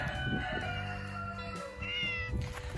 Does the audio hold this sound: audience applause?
no